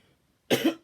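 A single sharp cough from someone giving a spoken talk, bursting out abruptly after near silence and close to the microphone.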